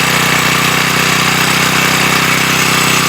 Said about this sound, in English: What if the engine's already started?